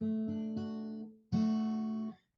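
An electric guitar plays a low triad on the bottom three strings, picked twice and then struck again and left to ring, clean and moderately soft, with no talking.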